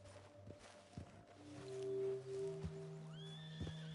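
A horse in the video game Red Dead Redemption 2 lets out a drawn-out whinny amid soft hoof thuds and shuffling, followed by a few faint chirping tones.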